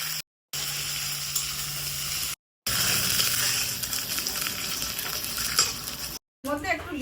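Chicken frying in a pan with ground ghetkul leaves, sizzling steadily while a utensil stirs and scrapes against the pan, close and fairly loud, broken by a few brief silent gaps.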